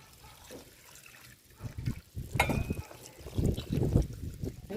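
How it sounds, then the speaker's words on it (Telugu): Water poured into a cooking pot while making village-style okra tamarind stew. The water splashes and trickles in uneven bursts that grow fuller and louder toward the end, with no talk. "ఇప్పుడు దీంట్లోకి తగినన్ని నీళ్ళు వేసి ఉడకబెడదామండి."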